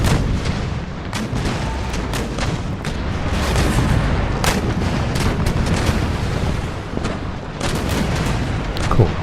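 Continuous volleys of musket fire rolling across a battlefield in Empire Total War, dense overlapping shots and booms with sharper individual cracks standing out, loud and sustained without pause.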